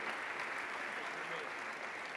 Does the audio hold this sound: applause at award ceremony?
yes